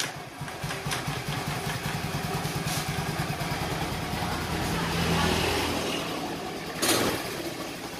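Honda Vario Techno carburetor scooter engine idling up close, a steady low pulsing rumble with mild rev swells, started with the battery connected; the scooter is prone to stalling and sputtering.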